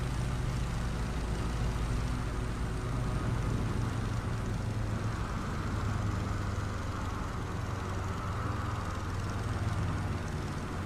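A Stearman A75L300 biplane's radial engine in Microsoft Flight Simulator 2024 drones steadily and loudly for the whole stretch, a dense continuous rumble with no break.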